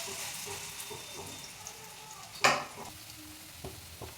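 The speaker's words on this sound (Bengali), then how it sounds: "তো এইভাবে আমি সুন্দর করে বড়াগুলো ভেজে নেবো।" Fritters (bora) deep-frying in hot oil, a steady low sizzle with scattered crackles and one sharp spatter or splash midway, close by and without talk.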